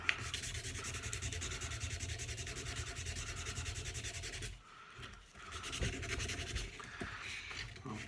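Sandpaper rubbed by hand over the head and shaft of an 8 iron golf club: a close, steady, rhythmic scratchy rasp that pauses briefly partway through, then resumes.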